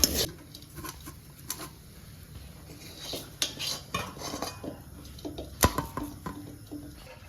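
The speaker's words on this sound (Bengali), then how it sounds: "কড়াই থেকে নামানোর পরে আমরা স্টিলের একটা থালে ঢেলে নিয়েছি" Boiled green peas tipped from a kadai onto a steel plate, giving scattered clinks and taps of metal with light rattling and scraping, fairly close and moderately loud, with a sharper clank near the end.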